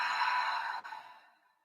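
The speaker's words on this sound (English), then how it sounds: "And exhale." A long exhaling breath during a yoga practice at home, a soft airy sigh that starts fairly full and trails off quietly over about a second and a half, with no talking.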